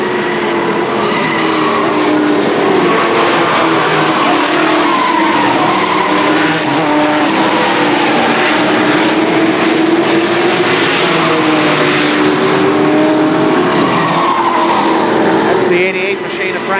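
Race cars lapping at Columbus Motor Speedway in a 1995 main event, a loud continuous engine roar from a pack of cars under a track announcer's calls, with tire noise and a brief change near the end.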